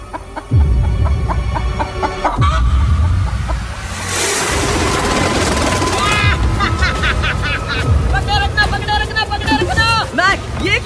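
A hen caught on an island makes clucking and squawking calls over a busy background of chatter, water and motor noise, with bursts of excited vocalizing near and loud throughout.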